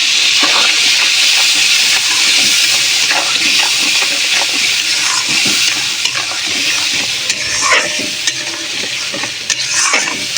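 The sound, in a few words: water poured from a rinsed bowl into a pot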